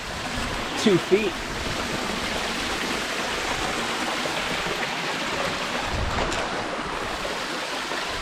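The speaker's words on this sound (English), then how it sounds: "that might be the record waterfall so far for today" A waterfall pours steadily in a desert drainage along the Triple Arch Trail hike in the Goldfields, a close, continuous broadband rush with a voice briefly speaking over it.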